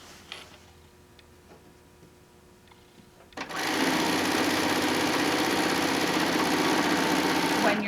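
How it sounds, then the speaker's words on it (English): A sewing machine starts up after a quiet pause and runs steadily, stitching a long quilt seam through a tack, its fast even whir close and loud to the end. "And so we'll sew down, we'll sew right through that tack."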